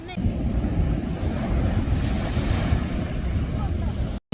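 Sea waves wash onto a beach during a morning walk, a continuous rushing surf noise close by, with wind buffeting the microphone throughout.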